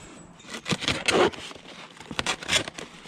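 Utility knife slicing through fibrous roofing material on a house roof, the dull blade making close, rasping scrapes in several short uneven strokes.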